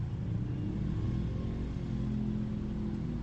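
Steady low rumble of town traffic in the town proper of Maria Aurora, Aurora Province, with car engines idling and moving close by, continuous and fairly even throughout.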